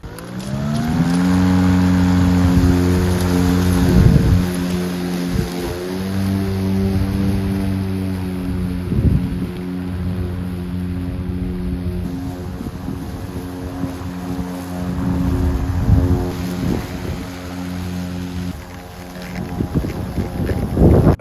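A Ryobi battery-powered electric lawn mower runs continuously inside a garage, a loud steady whirring hum with strong droning tones that echo off the walls, with occasional bumps and surges in the noise.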